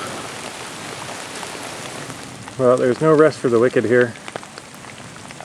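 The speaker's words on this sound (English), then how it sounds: "It's still raining" Steady rain pattering on a campsite shelter during a solo canoe trip, a continuous close hiss throughout, with someone talking briefly in the middle.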